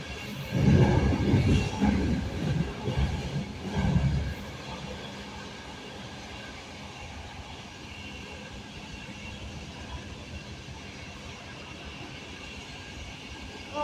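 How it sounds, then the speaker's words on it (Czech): Heavy rumbling and clattering as a Prague tram rolls over track junctions, loudest at first, then fading to a steady low rail hum. "jak tramvaje přejíždí tu ty kolejiště"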